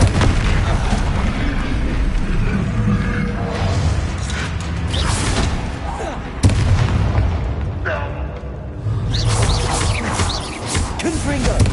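Confringo fire spells erupt in the Hogwarts Legacy video game, repeated heavy booms and blasts amid clanking combat mechanisms, with a sharp crack midway, continuing over about twelve seconds under battle noise and voices.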